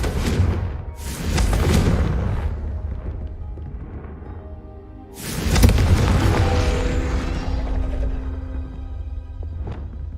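Confringo spell blasts in Hogwarts Legacy on PS5: two loud booming bursts, one early and one midway, each trailing into a rumbling, crackling tail without talk.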